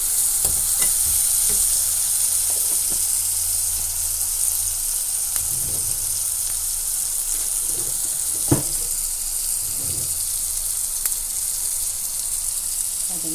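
Spices sizzle and are stirred in a hot pan with chili powder, tamarind and turmeric, a steady close frying hiss with occasional scraping stirs and clinks.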